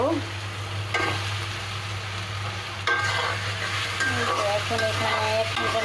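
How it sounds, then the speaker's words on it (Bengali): Eggs cooking in spice masala in a pan, with a steady sizzle and repeated scraping stirs of a utensil, plus a low constant hum underneath throughout. "কষিয়ে নেবো ডিম দিয়ে"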